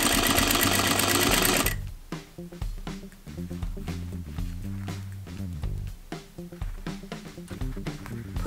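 A sewing machine runs in quick bursts of rhythmic stitching while understitching the fly front of wide-leg pleated pants, close and clear, with brief pauses between runs after a noisy opening moment.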